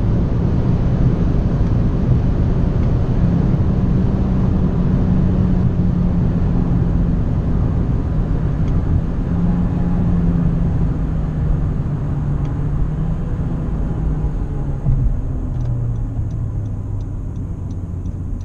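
Honda Civic Touring running at its limited top speed in sixth gear, a loud, steady engine drone with heavy road and wind roar inside the cabin, holding an even pitch that dips slightly near the end.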